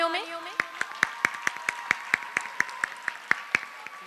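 At a school inauguration and blessing, an audience claps in a steady, evenly spaced rhythm of crisp, distinct handclaps. A voice sounds briefly at the start.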